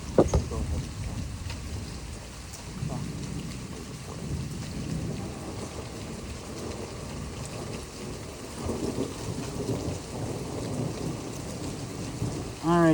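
A loud thunderstorm over Troy, Illinois, with steady heavy rain drumming on surfaces and deep rolling thunder swelling and fading throughout, close and enveloping.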